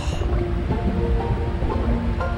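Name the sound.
waterfall in Skies of Arcadia video game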